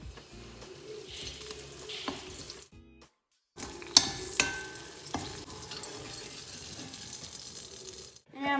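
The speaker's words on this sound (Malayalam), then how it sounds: "ഇതിൻ്റെ രുചി കിട്ടാൻ വേണ്ടിയിട്ടാണ് നമ്മൾ ഈ വെളുത്തുള്ളി, കറിവേപ്പില, ഉണക്കമുളക് ഇടുന്നത്" Garlic, curry leaves and dried red chilies frying in hot oil, a steady sizzle with stirring scrapes and a brief quiet gap, birds cooing faintly in the background.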